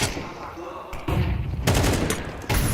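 Rapid gunfire from Counter-Strike 2 during a professional esports match at the Shanghai Major, loud bursts of shots in the second half over a steady game din.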